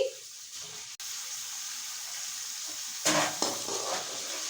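Chicken is added to softened onions in a pot and starts frying, a soft steady hiss that swells into a louder sizzling burst partway through, with faint stirring.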